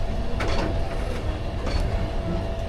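A passenger train pulls out of Sararchar station platform in Kishoreganj, a steady loud rumble of wheels and carriages with faint clacks throughout.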